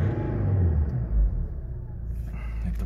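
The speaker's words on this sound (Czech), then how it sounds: "Jinak to teďka zahučíme, jenom jak hučí tady z toho auto, poslouchejte." A steady, deep engine hum with rumbling low tones from a Nissan Pathfinder 128 kW engine, close and loud, holding constant for a few seconds.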